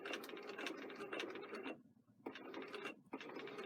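Sewing machine back stitching along a sleeve placket, short bursts of rapid mechanical whirring and clicking separated by brief pauses, fairly close and quiet.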